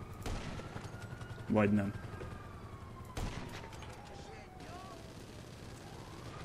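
Gunfire aimed at a police helicopter in the video game GTA V comes as a short burst of shots with a brief siren-like tone and a second thud. It sits in the mid-distance under steady game noise, and someone says a few words.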